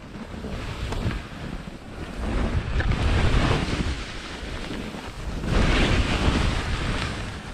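Loud gusting wind roars across the microphone while skiing Whistler Peak in powder, swelling in two strong surges and never dropping to quiet.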